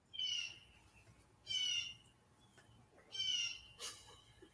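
Birds call in three or four short, chirpy squawking bursts spaced a second or so apart. The calls are moderately faint over a quiet low background hum, with no talking.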